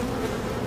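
Honeybees at an open hive during an inspection on a farm, a steady, dense buzz close by and fairly loud, with no talk.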